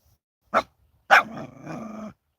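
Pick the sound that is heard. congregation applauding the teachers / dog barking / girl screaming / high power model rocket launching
dog barking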